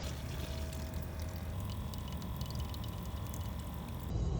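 Tap water fills a cooking pot for instant mashed potatoes, a steady close rushing pour that runs evenly for several seconds with a slight surge at the end.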